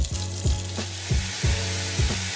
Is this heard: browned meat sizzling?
yes